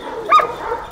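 A single short yelp or bark from an Anatolian Kangal dog cuts briefly through a quiet, faint background, with no other voices or sounds around it.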